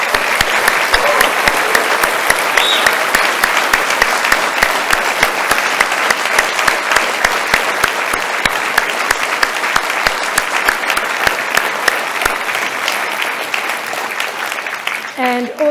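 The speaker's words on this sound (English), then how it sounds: "Let's give one last big round of applause for our three incredible speakers." Sustained, loud applause from an audience after a panel discussion, dense continuous clapping lasting about twelve seconds before tapering off, with voices emerging at the end.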